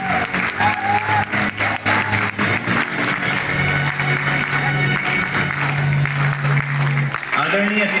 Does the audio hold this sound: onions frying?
no